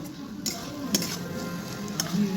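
A ground spice paste and fried pointed gourd sizzle gently in a curry pan while a spoon stirs them, with a few sharp clinks of utensil against metal over a soft, steady frying hiss.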